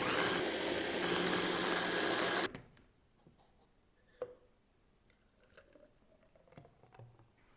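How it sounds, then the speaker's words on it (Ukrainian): A blender blending a breakfast smoothie with milk roars loudly for a couple of seconds, then stops abruptly, leaving quiet clicks and light handling noises. "тепер все збиваємо блендером"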